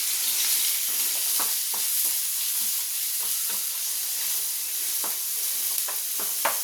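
Onions and curry leaves fry in a pan with a constant soft sizzle, broken by the scrape and clack of a spoon stirring. It is close and fairly quiet, with no voices.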